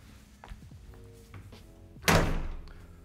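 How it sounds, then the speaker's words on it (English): A pivoting front door of a Marbella mansion swings on its pivot, with soft faint knocks first and then one close, loud whooshing thud that fades over about a second. "Beautiful pivoting door enters you right into the main area of the house."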